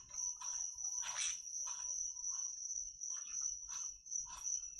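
Steady high-pitched cricket chirping fills the background of a video game scene, a continuous insect drone with soft, irregular rustling and movement sounds passing over it, no voices.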